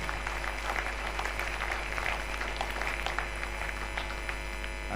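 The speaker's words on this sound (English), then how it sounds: "Let's clap him for that presentation." An audience applauds after an inaugural lecture, a steady wash of clapping from many hands over a low mains hum, sustained for several seconds with no speech.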